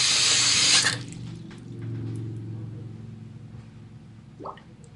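Water gushes from a tap at full flow for about a second, then shuts off abruptly, leaving low rumbling pipe noise and a brief clunk near the end.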